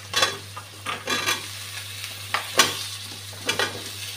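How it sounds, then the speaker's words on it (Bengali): Bottle gourd pieces fry in a pan of onion and spice paste, with a soft sizzle under a series of sharp scraping stirs about once a second, near and distinct, without speech. "এখন লাউগুলা দিয়ে দিচ্ছি।"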